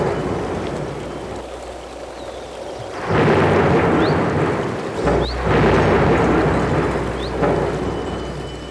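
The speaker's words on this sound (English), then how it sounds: "there came a severe storm. The Buddha was lost in deep meditation when the sky darkened and it rained the whole week." Heavy rain pours steadily through a severe thunderstorm, with loud rolls of thunder swelling in around the middle and lingering over the downpour.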